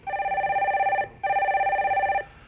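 A telephone rings to connect a caller on a Korean stock market call-in broadcast, giving two long, buzzing rings separated by a short pause, close and clear, with no talk over it.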